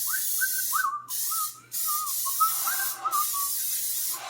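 Cooking spray hissing onto a baking dish in several short bursts separated by brief pauses, close and fairly loud, with no talking.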